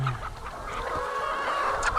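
Free-range laying hens in a flock of about a thousand cluck on an open grass-and-weed pasture, several close, overlapping calls in quick succession with no talking.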